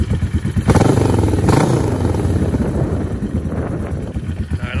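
Yamaha XS 500 brat-style motorcycle engine running close by, a steady rumbling idle with a couple of sharp throttle blips early on, accompanied by some wind buffeting on the microphone.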